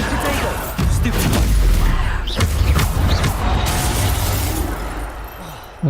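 A booming, crashing burst from the Bombarda explosion spell in the video game Hogwarts Legacy, loud and close, with a rumbling low tail trailing over several seconds.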